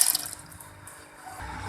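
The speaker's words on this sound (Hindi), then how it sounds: "ये जो चने की दाल है ये मैं पानी के समेत इसमें डाल दूँगी" Chana dal and its soaking water pour into a pot on a lit stove, a soft, steady splashing and trickling that stays faint and close.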